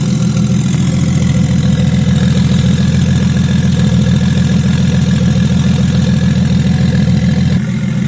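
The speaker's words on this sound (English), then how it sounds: "So the pump is working, it has pulled all the fluid in, so we gotta add more." A BMW E36 idles with a newly replaced power steering pump running, a loud, steady, close engine drone with a constant hum and whine that stays even throughout.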